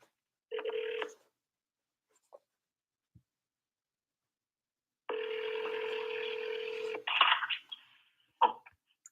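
An outgoing phone call, with a short tone, two faint keypad clicks, then a long steady ring tone followed by brief bursts of line noise, all fairly quiet and with no talking.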